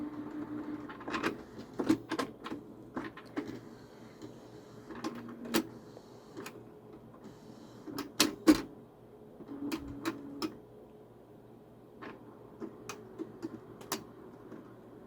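An inkjet-style printer working in bursts, whirring motor passes punctuated by sharp clicks and ticks at irregular intervals, close by in a quiet room.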